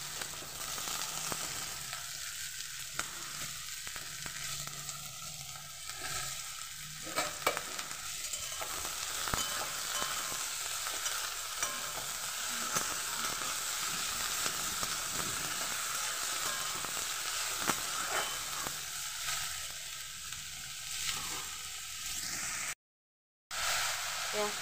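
Onions and slit green chillies fry in hot oil, a steady close sizzle with occasional stirring scrapes, punctuated by someone speaking at intervals and one brief dropout near the end.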